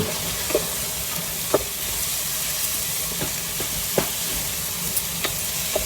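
Onions sauté in a pan for Malabar biryani under a continuous close sizzle, punctuated by sharp scraping clinks of a stirring spoon at irregular intervals.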